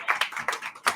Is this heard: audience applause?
yes